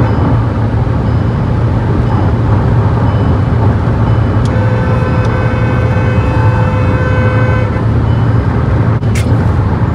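Kia Sonet HTX 1.5 diesel with a manual gearbox, accelerating in fifth gear during a top-speed run: a loud, constant engine and road drone heard from inside the cabin, its tone slowly climbing.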